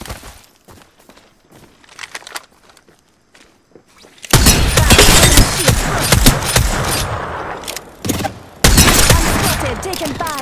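Gunfire from the video game Apex Legends: sparse clicks and light shots at first, then sudden loud sustained bursts of automatic fire with booms and rattling echoes.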